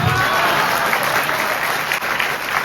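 Loud, sustained applause from an audience at a Lavani performance, steady dense clapping filling the whole stretch without letting up.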